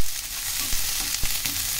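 Chopped beans tipped into a hot pan of stir-frying vegetables give a steady, loud, hissing sizzle with a couple of soft stirring knocks, close and continuous.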